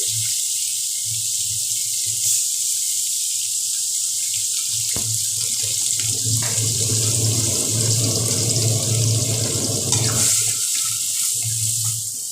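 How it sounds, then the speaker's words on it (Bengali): Finely minced medium-sized onion fries in a pan in a home kitchen, giving a continuous bright sizzle that holds steady with a few brief crackles and swells. "পেঁয়াজটাকে একটু ভালো করে ভেজে নেব, যাতে পেঁয়াজটা কাঁচা গন্ধ ভাবটা চলে যায়"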